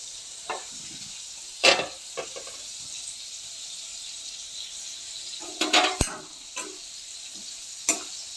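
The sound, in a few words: chopped spinach being stir-fried in a pan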